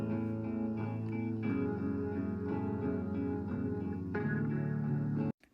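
A MIDI bass line plays along with the main guitar part in a home-recorded cover of a song, a steady, full mix of sustained tones that runs loud and unbroken before cutting off abruptly near the end.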